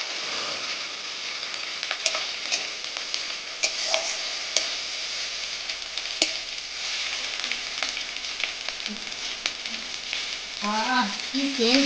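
Chicken fries with ginger in a pan, a steady close sizzle with scattered crackles and light stirring clicks; a voice briefly talks over it at the end.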